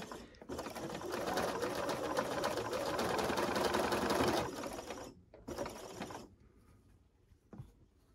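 A sewing machine runs in a long continuous stitching burst while quilt pieces are sewn, stopping briefly, then a short second run and a few faint clicks as it winds down.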